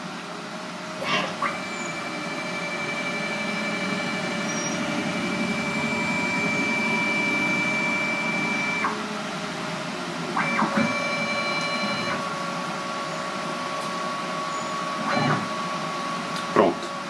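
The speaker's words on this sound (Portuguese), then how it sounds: "Então eu dou aqui um enter e ela vai fazer o homing automaticamente." A CNC milling machine homing its axes automatically before machining aluminium: steady servo whine with long sustained tones that stop and restart, punctuated by a few short clicks as each axis reaches its reference.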